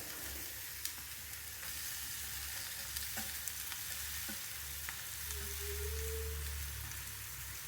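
Snake gourd sizzles and fries steadily in a hot pan, a continuous crackling hiss with occasional stirring clicks, close and fairly loud, no voices.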